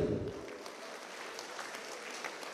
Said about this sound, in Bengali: সবাই একটু করতালি দেই।